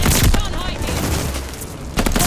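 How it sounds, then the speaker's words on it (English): Explosions and gunfire roar during a bombing run in the Call of Duty: Vanguard video game, loud heavy booms opening and closing the moment with rattling fire between, under in-game voice callouts. "Allies called a bombing run."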